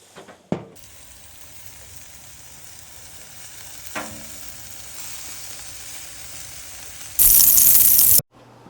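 Burgers and feta-filled mushroom caps sizzle steadily on a grill, a continuous frying hiss with a few soft clicks and a louder burst of sizzle near the end.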